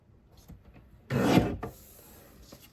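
A paper trimmer slices a narrow paper strip in one close, rasping cutting stroke that lasts about half a second, amid quiet handling noise.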